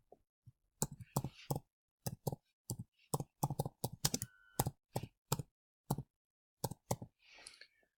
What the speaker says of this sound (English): In row 3, I'm going to type in the heading for our first task.